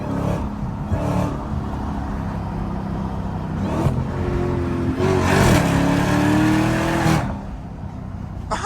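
A Dodge Hellcat Redeye idles with a heavy, steady engine rumble and then revs several times, the pitch rising and falling in loud surges that last a few seconds each.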